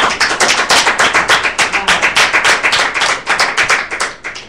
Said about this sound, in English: Go and give Father Hayden clap of praise